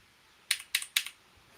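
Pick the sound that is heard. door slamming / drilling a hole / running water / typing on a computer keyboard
typing on a computer keyboard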